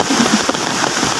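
Rain falling steadily on a flooded village while fishing with a cast net in fast water, a dense even patter close to the microphone with no voices.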